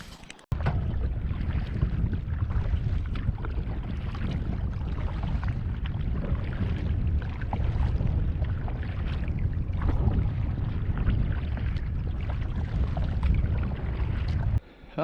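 A canoe moves on a wilderness lake in Quetico, with a steady low rumble of water and wind buffeting the microphone throughout and no voices.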